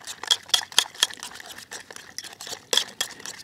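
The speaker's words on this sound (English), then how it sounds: "I'm gonna start by doing a little bit of a stir to get these started, incorporated" Fork stirring zucchini fritter batter in a bowl produces quick, irregular wet clicks and soft squelches, close and fairly quiet, in a brisk uneven rhythm.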